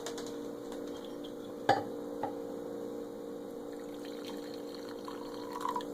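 Coffee is poured from a moka pot in a thin, faint trickle over a low electrical hum, with a couple of sharp clinks.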